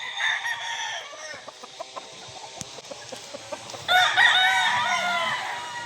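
A Golden Boy gamefowl rooster, from imported bloodlines, crows loud and close at the start and again near the end, with short clucks scattered between.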